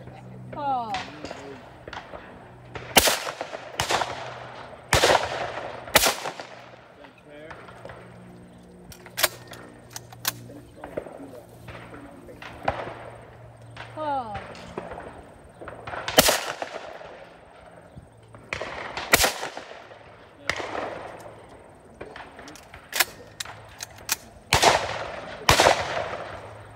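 Loud shotgun blasts at a sporting clays course during a world English sporting championship, about a dozen sharp reports spaced irregularly, some in quick pairs, with people talking between shots.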